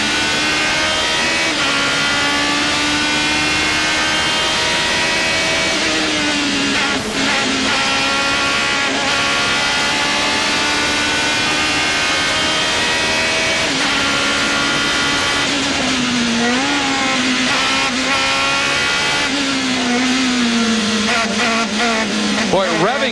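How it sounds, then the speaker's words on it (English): A race car engine at high revs during the 2000 SCCA Runoffs whines loudly and continuously, pitch rising and falling as it shifts, recorded close onboard with a constant roar behind it. "Now listen to this engine whine."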